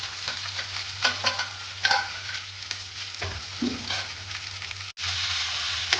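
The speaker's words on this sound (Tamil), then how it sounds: "இப்போ நாங்கள் தாளித பொருட்கள் எல்லாம் ஒரு வடிவாக இந்த எண்ணெயில் கிளறி விடுவோம்" Dried red chillies, curry leaves and tempering spices are stirred in hot oil for poha upma, with steady sizzling and repeated spoon scrapes close by and a short break near the end; no one speaks.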